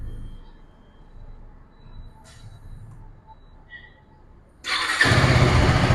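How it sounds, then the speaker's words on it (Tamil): A 2024 KTM Duke 390 motorcycle's 390cc single-cylinder engine starting: a quiet stretch with faint background noise, then a sudden loud, steady, rough-edged roar for the last second or so. "இன்ஜின் நான் ஸ்டார்ட் பண்ணி காட்டுறேன் பாருங்கள்."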